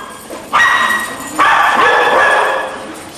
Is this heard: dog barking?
yes